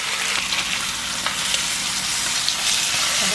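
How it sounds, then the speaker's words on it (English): Pork belly sizzling in a hot pan for ramen, a steady close crackling hiss with scattered pops and faint stirring sounds, no talking. "Something about the sizzling just made me so excited."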